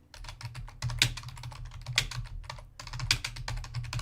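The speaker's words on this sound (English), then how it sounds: "One second, I know I'm typing on the show." Rapid typing on a computer keyboard, with dense clustered clicks and a few louder key strikes, close and steady over a low background hum, with no talk.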